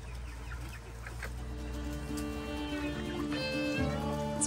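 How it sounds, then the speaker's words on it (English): Hens clucking close by in a homestead garden, a continuous run of soft, overlapping clucks and murmurs with no talking. "My hens had seized the opportunity and made a quick escape into the garden."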